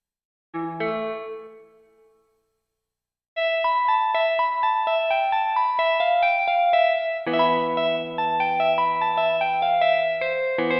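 Clean electric guitar chords and picked notes drenched in reverb from a Pulsar-ES reverb pedal, a brief chord ringing out, a pause, then sustained shimmering playing.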